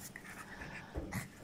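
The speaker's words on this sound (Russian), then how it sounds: "Бедные в ранах чешутся, скулят." Puppies suffering from lichen whimper and pant, giving a couple of short, thin high-pitched whines over quick breathing, close and quiet.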